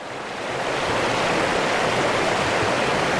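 River water pours steadily over a weir, a loud, continuous rushing roar close by with no voices.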